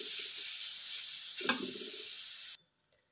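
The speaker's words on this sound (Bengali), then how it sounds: "আমি এটা 5 মিনিট মতো নাড়বো। গাজরটা যতক্ষণ না নরম হচ্ছে" Carrots for halwa sizzle steadily in a pan with a bright continuous hiss, one stir clunk near the middle, before the sound cuts off abruptly.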